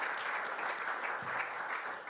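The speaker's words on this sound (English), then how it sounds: "I'm already getting applauded." Steady applause from a conference audience during a tax policy panel, many hands clapping continuously at an even, moderately loud level with no voices on top.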